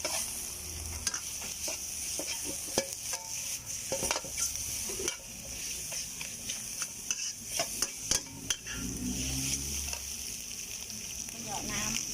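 Squid stir-fried with salted egg, onion and carrot sizzles steadily in a pan while a spatula scrapes and taps repeatedly, with someone speaking over the cooking.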